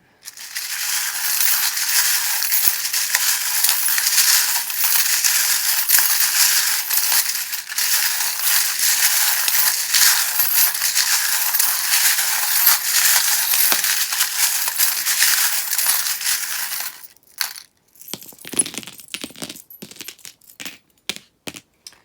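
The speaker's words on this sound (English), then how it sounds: "If you don't like the sound of the charms being shuffled" Continuous loud jangling of small metal charms being shuffled for about seventeen seconds, then a few scattered clinks as pieces drop.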